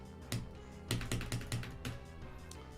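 Computer keyboard keys click during practice for a rhythm platformer level, a scattered run of sharp, close taps with a few louder strikes bunched in the middle.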